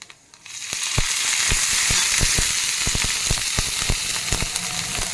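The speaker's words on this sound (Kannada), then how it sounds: "ಅದು ಸ್ವಲ್ಪ ಎಣ್ಣೆ ಹಾಕಿದ್ದು ಹುರ್ಕೊಂಬಿಡೋಣ." Chopped green chillies fry in a little oil over a low flame for tomato chutney, giving a steady close sizzle studded with frequent sharp pops and crackles.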